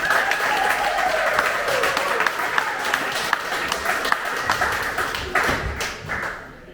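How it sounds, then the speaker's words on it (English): Applause from the crowd at a Melbourne Silicon Beach live meetup night, given for the event's sponsor: a steady wash of clapping with scattered sharper claps that thins out and fades toward the end. "please give her a little bit of applause"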